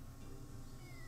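Cat in the video game Sakuna: Of Rice and Ruin gives a single faint drawn-out meow over a low game background hum, with no talk.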